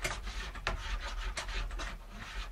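A scraper and brush rasp over a waxed ski, removing built-up wax in repeated close strokes, steady and fairly loud with no voices.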